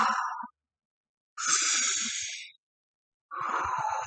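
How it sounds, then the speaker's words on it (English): Heavy breathing of a person stretching, three long breaths close to the mic, each a breathy rush of air separated by short silent pauses. "Don't know if you hear my breathing,"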